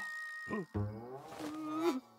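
A voice imitates a bear's roar during a shadow puppet game in a children's cartoon, producing a short growl and then a longer, rising, drawn-out roar, close and moderately loud.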